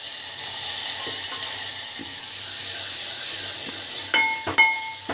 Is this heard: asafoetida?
yes